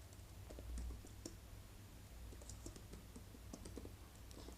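Typing on a computer keyboard during frontend web development work, with quiet scattered key clicks over a low steady background hum, fairly faint and without speech.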